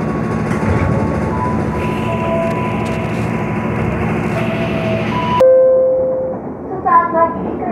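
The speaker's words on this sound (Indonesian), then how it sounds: "Sesaat lagi kereta Anda akan tiba di stasiun Cikoya." A commuter train arrives at Cikoya station in Indonesia, with a loud, steady rumble of rolling carriages that cuts off abruptly. Brief tonal squeals and quieter sounds follow as it comes to a stop.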